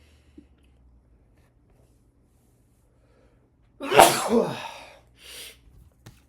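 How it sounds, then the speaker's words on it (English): A single loud, close sneeze bursts out of near silence, followed by a short sniffle and a small click. "That was a big sneeze."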